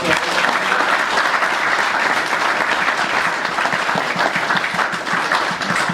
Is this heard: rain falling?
no